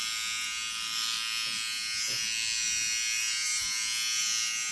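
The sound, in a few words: Finishing Touch Flawless Nu electric razor shaving arms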